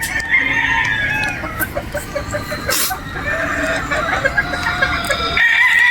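Boston Roundhead game fowl roosters on a game farm in Batangas crow and cluck repeatedly, several birds overlapping at moderate distance over steady, fairly loud farmyard background noise.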